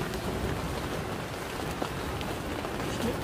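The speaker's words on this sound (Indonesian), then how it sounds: "Sementara hujan deras nih." Heavy rain drums steadily on a family camping tent in wind, a dense, continuous hiss of drops with no break and no voices.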